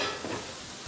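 A steady sizzle of food frying in a hot pan while a steak dish is prepared, a brief, even hiss close at hand with no voices.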